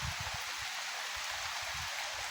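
Steady rain falls around a farm field in the morning, a continuous broadband hiss with low rumbling underneath, alone and without talk.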